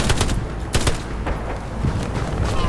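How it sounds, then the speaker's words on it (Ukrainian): Rapid bursts of gunfire in the video game Hell Let Loose crackle repeatedly, with sharp shots and short volleys layered over a constant busy din, no voices. "І там іще я чую, прямо от вони стріляють тут поряд."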